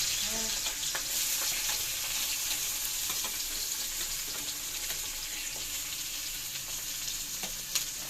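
Continuous sizzling and crackling of onion, garlic and chilli frying in hot oil, with light stirring scrapes and clicks throughout, no talking.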